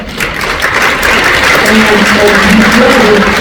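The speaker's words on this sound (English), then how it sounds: "let me tell you what you're clapping for" Audience applause fills a lecture hall at a university talk, a steady wash of clapping that swells and holds for several seconds, with some voices mixed into the crowd noise.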